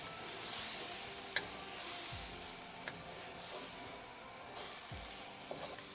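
Creamy Italian-style meatballs being stirred in a pan of cream, with a low continuous sizzle, occasional soft utensil clicks and a couple of dull scraping thumps, faint and close with no talking.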